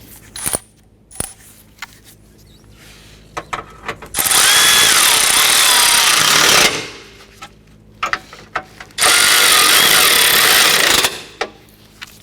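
A power tool tightens the power steering reservoir bracket bolts on a 2009-2015 Honda Pilot, running in two loud sustained bursts of a few seconds each, with metallic clicks and clinks of handling before, between and after.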